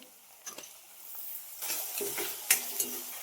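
Chilli, onion and tomato hitting hot oil for a home-style bean curry, a soft sizzle rising as pieces drop in, with a few spoon and pan clinks close by.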